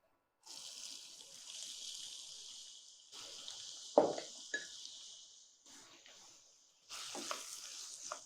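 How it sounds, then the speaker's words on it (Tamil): Chopped onion with a pinch of salt fries in hot oil, a bright hissing sizzle that cuts in and out in bursts, with a couple of sharp stirring knocks in the middle, close and fairly soft. "இந்த எண்ணெயில் இந்த வெங்காயத்தை போட்டு கொஞ்சம் சிட்டிக்கு உப்பையும் சேர்த்து நல்லா வதக்கிடுவோம்"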